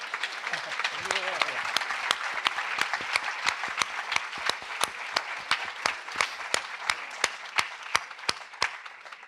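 An audience applauds at a children's book event, starting as a scattered ripple and settling into slow, loud rhythmic claps in unison; a voice speaks briefly near the start.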